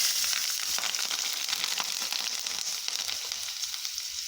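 Nigella seeds and green chili sizzle in hot oil after fish has been fried, making a steady, close, loud crackling hiss that carries on without a break and with no voices.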